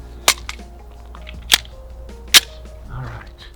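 Three Glock V model pistol shots fired at a shooting range, evenly spaced about a second apart, sharp and loud but slightly distant, with steady background hum between shots.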